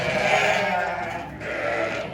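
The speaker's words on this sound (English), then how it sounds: "these are all our sheep" Sheep on a farm bleat close by, a couple of wavering calls over steady barnyard background noise.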